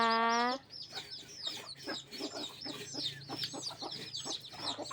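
A hen clucks repeatedly in an irregular, close-up stream of short calls, with a brief steady tonal note at the very start.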